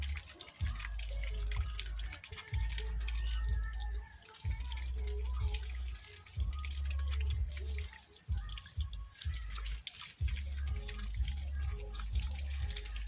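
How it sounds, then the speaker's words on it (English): Water splashes and drips as a face is washed during ablution, with repeated close trickles and drops falling into a basin. No one speaks. "Then after that, you wash your face also 3 times."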